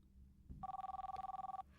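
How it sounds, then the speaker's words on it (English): A telephone rings with a rapid trilling bell of about a second, clear and fairly close, following a soft thump, in a quiet indoor setting. "the sound of a telephone ringing from somewhere below woke Rosie up"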